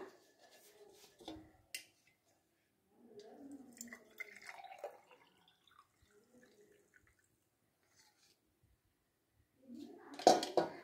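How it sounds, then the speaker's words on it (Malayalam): Homemade herbal kiriyath decoction being strained through a filter, giving faint, intermittent trickles and drips in a quiet room before a louder splash near the end. "ഇനിയിപ്പോൾ നമുക്കൊന്ന് ഫിൽട്ടർ ചെയ്തെടുക്കാം"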